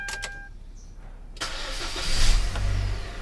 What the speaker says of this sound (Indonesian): Nyalain mesinnya.